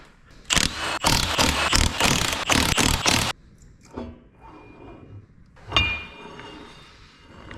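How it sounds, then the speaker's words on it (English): Brake drums and axle shaft being pulled from a GM 14-bolt rear axle: a burst of loud, rapid mechanical rattling and clanking for about three seconds, then scattered metallic knocks and a sharp clunk. "I'm going to pull the drums off. And we're going to pull our axle shaft out."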